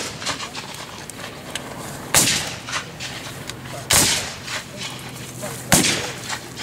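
Civil War reenactors' muskets firing by files during a Confederate infantry living history demonstration at Gettysburg, three sharp loud reports at roughly two-second intervals, with murmured voices and outdoor noise between the shots.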